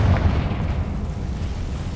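A Confringo spell explosion in Hogwarts Legacy, a short booming blast that fades into a low rumbling decay, fairly loud and heard alone.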